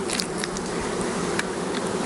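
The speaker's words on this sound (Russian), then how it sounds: "Пчелки выходят, и что-то у нас маточка работает." Honey bees hum steadily at an open hive frame during a colony inspection, a dense, continuous buzz with occasional louder passes of individual bees close by.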